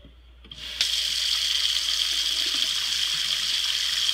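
Town water gushes from a basement tap, starting with a soft trickle that jumps to a strong, steady rush of flowing water, close by with no talking.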